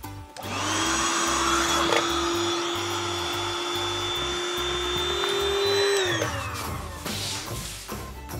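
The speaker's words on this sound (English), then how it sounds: "put the air pump on it, and you have a queen size sleeper" An electric air pump inflates the queen-size air mattress of an RV sofa sleeper. It gives a steady, close whirring drone that holds for about six seconds, then winds down.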